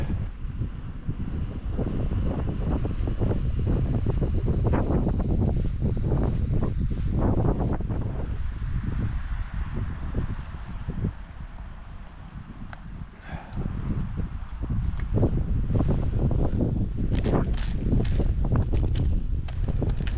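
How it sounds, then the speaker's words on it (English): A river flows very close to a wild campsite in the Fannichs at twilight, a constant rushing roar with heavy low rumble and gusts of wind buffeting the microphone. "I'm sure you can hear that there's a river really close by."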